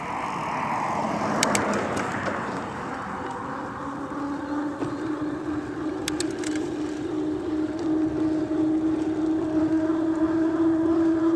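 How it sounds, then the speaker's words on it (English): Single-cylinder 600cc motorcycle engine running on a ride at sunset, a steady droning hum with a rising tone, heard continuously over wind rush with no talking. "This sounds like a 600 single."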